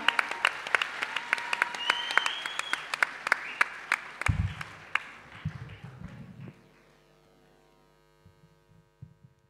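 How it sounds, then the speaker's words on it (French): Audience clapping for Clara, a 13-year-old girl singer, at a young talent showcase evening; dense applause with sharp individual claps over a low hum, thinning out and fading to near silence by the end. "On va l'applaudir, évidemment"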